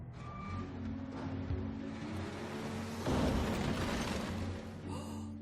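An animated garbage truck gives steady reversing beeps over a low engine rumble, with a burst of hissing air brake midway and the beeping continuing close and prominent.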